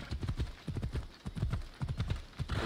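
Rapid, rhythmic hoofbeats of a trotting horse in the video game Assassin's Creed Odyssey, steady clip-clop pattern up close and moderately quiet.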